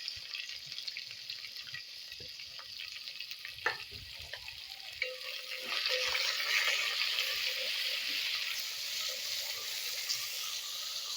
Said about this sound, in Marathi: खडा मसाला परतल्यानंतर आपल्याला इथं कांदा टाकून घ्यायचा आहे.